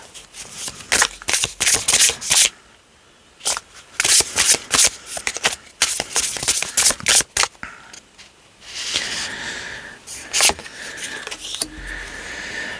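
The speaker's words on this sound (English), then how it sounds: "If I shuffle again to get one more card" A deck of cards, tarot-style for a reading, being shuffled in quick riffling bursts with short pauses between them, close and crisp, followed by softer handling sounds.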